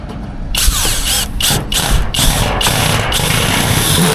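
A power drill drives a screw into metal roofing and strikes a hidden nail, giving a string of loud, close, whirring bursts with brief pauses between them before settling into a continuous grinding run.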